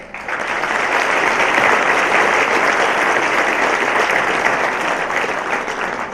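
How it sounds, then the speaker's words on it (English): A large audience applauds and cheers continuously, a dense, loud wash of clapping at steady intensity throughout, with no talking over it. "I want to give you another round of applause. So cheer for yourself."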